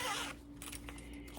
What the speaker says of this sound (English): We're going to open our zipper